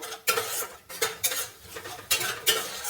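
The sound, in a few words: stirring spiced egg curry in a pan after adding water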